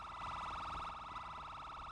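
A police siren wails steadily and loudly in a video game roleplay, a continuous wavering electronic tone filling the whole stretch with no talking over it.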